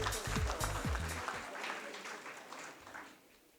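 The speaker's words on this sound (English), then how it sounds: "We'll still clap for them, please, nevertheless." Audience clapping at an investor summit awards segment, a moderate round of hand claps that fades gradually, following a brief stretch of speech at the start.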